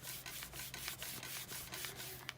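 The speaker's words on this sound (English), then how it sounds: "So I'm gonna really burnish this in." A tool burnishing an adhesive foil sheet, quiet repeated rubbing strokes in a steady back-and-forth rhythm, close and soft.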